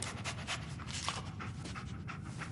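A dog pants quickly and steadily in the Fallout 4 video game, a soft rhythmic breathing heard alone at low volume for a few seconds.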